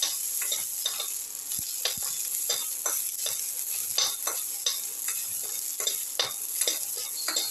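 Raisins fry in a pan as a steady sizzle runs underneath, broken by frequent sharp scraping clicks from a spatula stirring close by.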